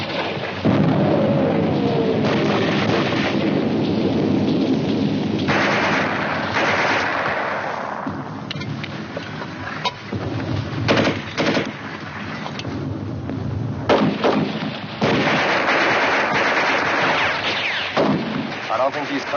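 Booming mortar blasts and bursts of gunfire from a war video game, heavy thuds and crackling shots layered over a dense, loud battle din, with brief stretches of talk in between.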